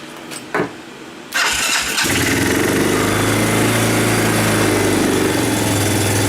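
A Baja 250cc motorbike that has sat without fresh gas cranks a couple of times, then catches and settles into a loud, steady, buzzing idle close by.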